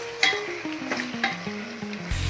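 Onions and masala sautéing in a pan for mutton curry, a steady close sizzle with repeated scraping strokes of a spatula stirring the mixture, a tonal hum running underneath.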